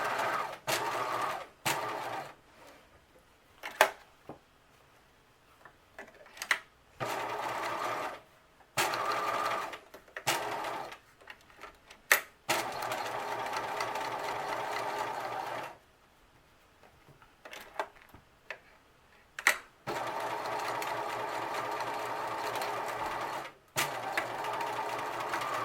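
A sewing machine stitches a cloth mask cover in quick buzzing runs of varying length, stopping and starting repeatedly with brief quiet gaps, heard alone at close range.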